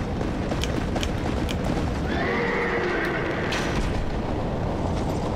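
A demon horse in the video game Dark Souls 2 lets out shrill whinnies amid hoof clatter and deep booming game noise, all loud and continuous.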